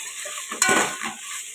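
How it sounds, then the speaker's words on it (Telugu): Prawns frying in oil in a pan for a prawn pulao, a steady close sizzle that swells sharply for a moment with a stirring scrape, then settles back to a soft hiss; no voices. "రొయ్యలు వేసేద్దాం ఇవి కూడా బాగా ఆయిల్లో ఫ్రై చేసుకోవచ్చు"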